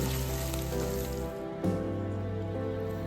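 Peppered beef browning in a pan gives off a steady, dense sizzle, close and fairly quiet, with a brief clatter partway through and no voices.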